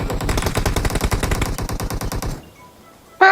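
Automatic weapon fire in the video game PUBG Mobile: one rapid, evenly spaced burst of shots runs for about two seconds, then cuts to near silence.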